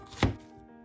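A single sharp knife chop through milkfish (bangus) on a board, cutting it into large pieces, one close thud with no talk.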